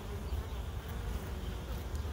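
Honeybees at a backyard beehive make a faint, steady buzzing hum close by, continuous and without talk for a couple of seconds.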